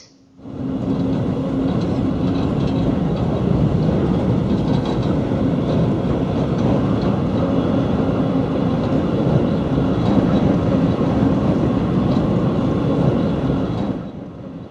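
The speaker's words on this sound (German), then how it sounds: "Dieser Zug fährt auf die nördlichste Insel Deutschlands, auf die Insel Sylt." A car-carrying shuttle train runs to the island of Sylt, giving a steady, loud rumble with rail rolling noise heard from inside. The sound holds evenly for about fourteen seconds, then eases slightly, with no voices.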